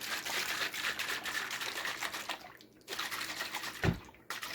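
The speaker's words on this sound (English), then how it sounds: "So I'm gonna just put the lid and shake it around so I can get everything out of" Sea moss and okra mixture sloshes and rattles inside a lidded container as it is shaken, a steady close-up wet churning with a brief thump near the end.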